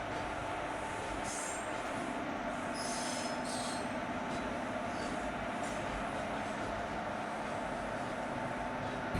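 A video game train rolls steadily along the rails with continuous wheel squeal and low rumble, loud and close for the whole stretch, with no talking.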